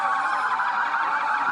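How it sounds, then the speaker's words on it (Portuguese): Police car sirens sound in tribute to a murdered officer at Praça 7, loud, close and continuous, wailing steadily without pause or talk. "Eles prestaram continência e as sirenes também foram acionadas."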